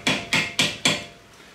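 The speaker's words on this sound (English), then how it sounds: "I'll get a hammer and punch that divot in there" Four sharp metallic hammer strikes on a punch, staking an axle nut on a 2005-2009 Subaru Outback, ring out in quick succession, each with a short bright decay, then quiet.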